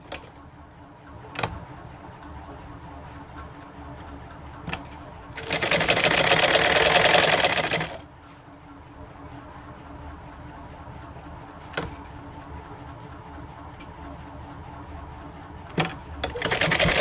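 A sewing machine stitches fabric pieces onto a kurti hem in one steady two-second run up close, surrounded by quiet handling clicks and taps with no talking.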